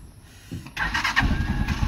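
A cold Rusi Chariot 175 motorcycle engine cranks briefly and catches almost at once, settling into a loud, close, steady idle with no talking.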